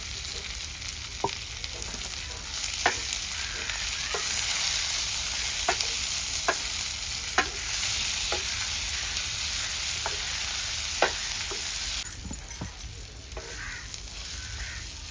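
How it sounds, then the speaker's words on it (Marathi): Onion, tomato, garlic, ginger, green chillies and cashews fry in a pan with a steady close sizzle, broken by regular sharp taps and scrapes of a spoon stirring. "आता आपला हे कांदा टोमॅटो पण शिजत आलेला आहे"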